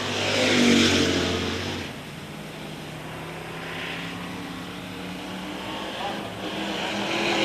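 Race cars roaring around the slick dirt oval at Port Royal, engines loud and near at first, then easing into a steady distant drone as the pack circles, with a commentator talking over it.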